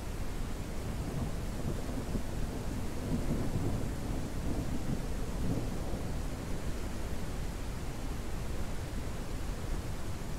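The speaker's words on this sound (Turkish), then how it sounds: "Yağmur çok hızlı yağıyor lan yağmur" Heavy rain pours down outdoors as a loud, constant hiss of drops that never lets up, with a low rumble beneath it.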